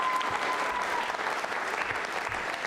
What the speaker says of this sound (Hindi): तालियां बजाइए उन सभी के लिए